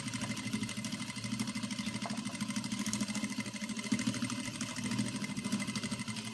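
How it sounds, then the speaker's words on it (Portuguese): Domestic sewing machine stitching along the embroidered seam to close an embroidered piece, a steady continuous whirring run with a fast mechanical rhythm, close and alone without talk. "tu vai com a calma, costurando bem certinho aonde a bordadeira fez a costura"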